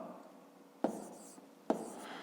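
A pen or pencil writes an answer on paper, making a soft scratching stroke with two sharp taps as it touches down, close and quiet, with no talking.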